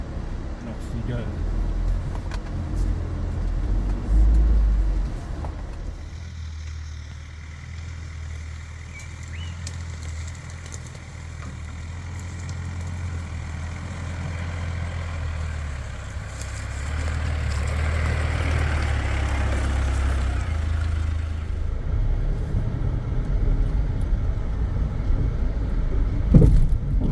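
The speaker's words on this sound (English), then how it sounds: "Got to love a good four-wheel drive car." A four-wheel drive car crawling off-road in low range on a rainforest track near Dorrigo, a low, steady engine rumble with rustling and bumping, while people talk inside the cabin.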